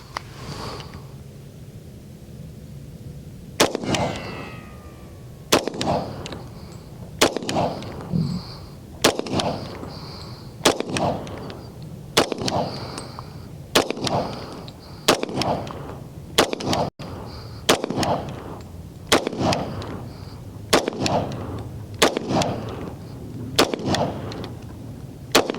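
Taurus TH40 pistol fired at a target, about a dozen sharp, loud gunshots spaced a second or two apart, each with a short echoing tail, and no talking between shots.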